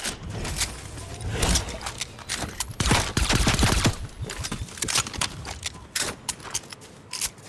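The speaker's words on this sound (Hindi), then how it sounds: "वो इस पे है ये सप्रेसर वाली गन" Suppressed gunfire in the Fortnite video game, a dense run of muffled shots and bursts that keeps going across the clip, with the loudest volley in the middle.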